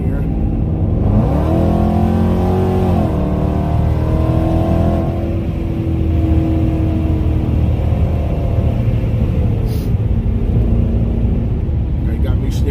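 A ProCharger-supercharged 5.7 Dodge Challenger muscle car accelerates hard, its engine note climbing through a couple of gear pulls before settling into a steady rumbling cruise, heard loud from close by while people talk over it.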